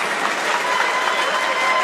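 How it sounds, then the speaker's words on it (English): High school basketball crowd cheering for their team in a gym during a boys game: a steady, loud wash of applause and shouting voices that stays even throughout the short stretch. "So all they can do right now is cheer for their team."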